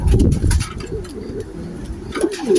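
Racing pigeons cooing close by at their loft, low throaty rolling calls overlapping in several bursts, loud and steady throughout.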